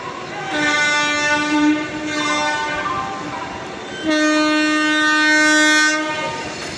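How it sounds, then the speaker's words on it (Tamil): Vaigai Express train running from Chennai to Madurai sounds a loud, sustained horn in two long blasts, close by, over steady rolling rail noise. "சென்னையிலேருந்து மதுரை செல்கின்ற வைகை எக்ஸ்பிரஸ் வந்துட்டு இருக்குது"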